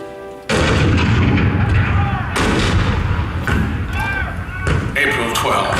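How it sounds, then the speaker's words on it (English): Cannon artillery fire evoking the Fort Sumter bombardment of April 12, 1861, in a theme-park attraction show: loud, sustained booming blasts that roll on continuously, with several sharper reports over a dense rumble and swelling music or voices beneath. "The cannon spoke for war, bitter, violent, and devastating."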